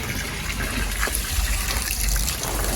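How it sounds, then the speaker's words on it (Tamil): Water being drawn from a well in Jaffna, a steady splashing gush and trickle as it pours, continuous and fairly close with no talk. "ஏலான்னு சொல்லி தண்ணி இறைக்கிறாங்க"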